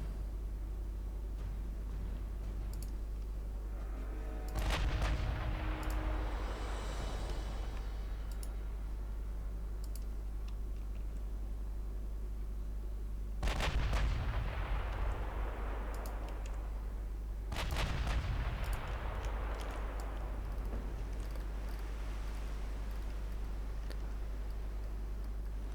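Naval artillery in the video game Ultimate Admiral Dreadnoughts fires at very long range: three separate booming salvos, each sharp at onset and then rumbling away, over a constant low hum.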